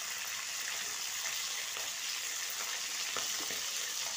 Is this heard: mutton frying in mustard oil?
yes